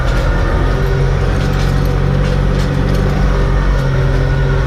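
A tractor drones loud and close, its engine note steady under rattling and knocks as the machine jolts over a rough field, dragging a cultivator through corn and sesame rows.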